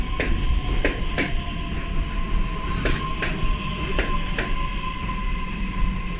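Inside a commuter train carriage heading to Podolsk, a steady rumble runs under sharp, irregular wheel clicks and clacks over the rail joints, with a faint whining tone throughout.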